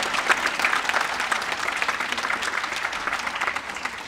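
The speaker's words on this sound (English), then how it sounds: "Nick, oh, yes, clap." Sustained applause from a graduation ceremony audience honoring an honors thesis award recipient, a dense, steady wash of many hands clapping without talk.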